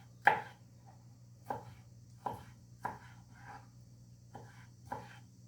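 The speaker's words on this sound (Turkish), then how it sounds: "Şimdi domatesimizi de doğrayalım." A knife chopping tomatoes on a cutting board, a handful of separate thuds at an uneven, unhurried pace in a quiet room with a faint background hum.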